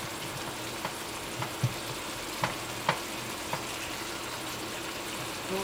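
Apples fry in a non-stick pan, a low, steady sizzle with a few sharp clicks and taps from stirring scattered through it, fairly quiet and without speech.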